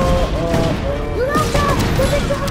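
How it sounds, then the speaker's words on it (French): Explosions and gunfire from the Just Cause 3 video game, a dense barrage of booms and shots filling the scene with tonal music or effects over it and a voice speaking now and then. "Oh, ça explose de partout!"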